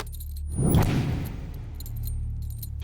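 A bunch of keys jangles close by during a scene in a dubbed South Indian action movie, a loud metallic rattle that swells then settles over a low ambient hum, with no speech.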